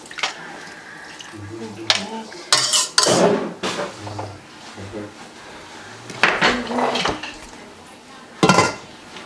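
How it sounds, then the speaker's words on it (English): A spoon stirs beef stew with onions and tomatoes in a pot, making clanks and scrapes against the metal. People talk over the stirring at close range, and a louder clatter comes near the end. "Give it a stir."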